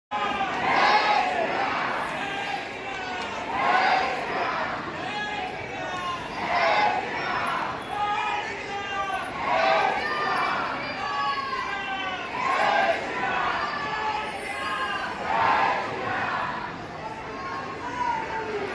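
A large crowd at Kalaram temple in Panchavati, Nashik chants devotional slogans in rhythmic, repeated call-and-response waves, loud and continuous for the whole stretch.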